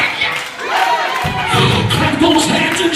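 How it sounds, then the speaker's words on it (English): A church congregation responds in a loud, close burst of shouting and cheering, with voices swelling into a continuous roar and thumping claps mixed in. "Clap those hands and shout hallelujah."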